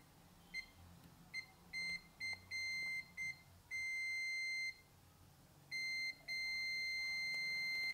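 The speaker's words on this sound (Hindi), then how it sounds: "जब मैं अच्छा वाला को टच करता हूँ देखिए बीप साउंड हमें सुनाई दे रहा है" Multimeter continuity tester beeping while its probes touch laptop and mobile charger terminals: a series of short high-pitched electronic beeps followed by longer sustained tones, clear and isolated against a quiet background.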